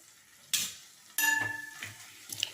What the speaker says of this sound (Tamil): இப்போ எல்லாமே ஒரு முறை நல்லா கிளறி விட்டுருதோம்.